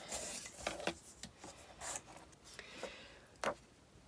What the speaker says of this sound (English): we're going to fold and burnish our other pieces and miter the corners